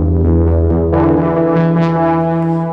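A synth bass patch from the DRC synthesizer plays a sustained, harmonically rich low tone with pitch shifts and a brightening filter sweep, loud and alone.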